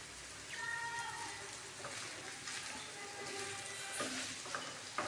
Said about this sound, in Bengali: হলুদ লবণ মিশিয়ে তারপর আমি নাড়াচাড়া করে